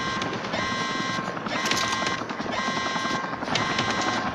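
An aircraft arrives for extraction in Modern Combat 4, a loud droning engine with a pulsing, rotor-like throb and whining tones that rise and fall in waves.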